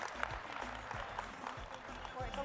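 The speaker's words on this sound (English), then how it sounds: "Round of applause, honestly." An audience at a startup showcase finale gives a round of applause for a Navy veteran, moderate clapping with a voice talking over it.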